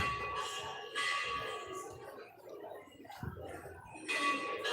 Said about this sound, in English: Bells are being rung.